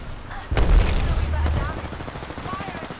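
A grenade blast in the video game Apex Legends lands as one loud, low boom with a heavy rumble that fades over a couple of seconds, with voices talking over it.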